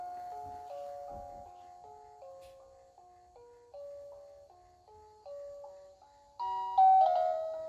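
A Tiny Love Take Along baby mobile plays a simple electronic tune of clear, chime-like notes stepping up and down in a steady rhythm, close and fairly quiet, with a brighter phrase near the end.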